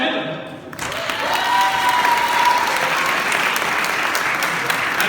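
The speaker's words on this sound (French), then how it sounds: "Alors, je vous demanderai un tonnerre d'applaudissements à Joël," A thunderous round of audience applause for the jury at a Japan Impact convention contest, swelling in after a brief quieter moment and holding loud and dense to the end.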